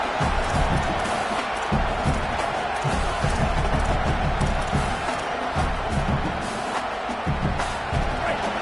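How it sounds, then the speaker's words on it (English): A football stadium crowd roars at a Miami vs Texas A&M game, a dense wash of cheering that stays loud throughout, with a broadcast voice faintly mixed in. "this crowd is turning it up a notch"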